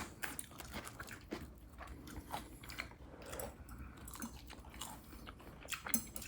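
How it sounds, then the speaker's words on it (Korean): Boneless fried chicken dipped in mayonnaise being eaten up close, with soft crunchy bites and chewing repeated in an irregular rhythm, quiet and intimate, with no talking. "마요네즈 찍어 먹으니까 훨씬 맛있어."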